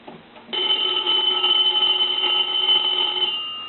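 A three-slot payphone's bell rings loudly and continuously for about three seconds during a repair test, a bright metallic trill that cuts in abruptly and then fades out.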